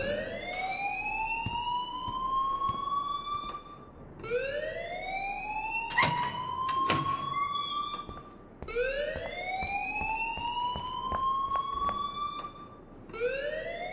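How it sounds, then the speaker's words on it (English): A loud fire alarm wails in the school of the game Life is Strange, rising in repeated siren-like sweeps with sharp ringing bursts in between, constant and close throughout. "please turn off that alarm since that's your job"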